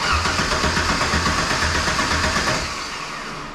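A fuel-injected 2.3 Ford Pinto engine cranks and runs with a loud, steady, rough mid-pitched drone up close, easing slightly toward the end.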